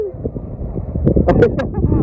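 Strong wind buffets the microphone near an umbrella at the riverside bathing spot of Mookambika temple, producing a low, gusting roar under close talking voices.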